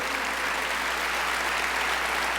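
A church congregation applauds in a dense, steady, full-room roar of clapping that holds at even loudness throughout, with no voices standing out.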